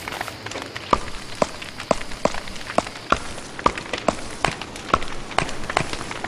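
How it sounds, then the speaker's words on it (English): Rain patters steadily in the video game Don't Starve, a dense hiss of falling drops broken by frequent sharp, evenly spaced ticks, fairly loud and with no voices over it. "Oh no, it's raining."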